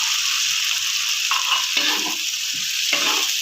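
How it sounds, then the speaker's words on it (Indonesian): Shellfish being stirred through a coconut spice mix in a pan, with a steady broad sizzle and several short scraping stirs of a spoon against the pan, close and alone. "Lalu kita aduk-aduk kembali seperti ini"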